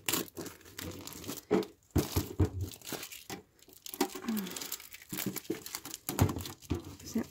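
Christmas star decorations, some made of thin sheet metal, being unpacked from crinkly plastic packaging, with close, irregular bursts of crumpling and tearing rustle throughout, no speech.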